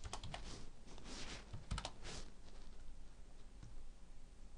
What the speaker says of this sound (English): I can simply type in x1